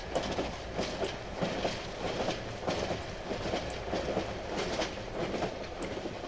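A moving train in the horror video game Cry of Fear rumbles steadily with rhythmic clickety-clack wheel beats and faint metallic squeals, continuous and without speech.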